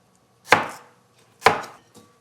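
Knife slicing apples for an apple pie, two crisp close cuts about a second apart, each ending in a short thud on the board, with a faint third tap at the end.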